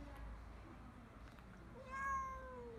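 Cat meowing outdoors, a single drawn-out meow near the end after quiet background noise, faint and somewhat distant.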